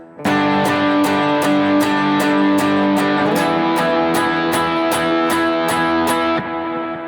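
Distorted electric guitar strums a steady series of chords, about a dozen even strikes, loud and close, shifting from G5 over D to E5 midway before fading.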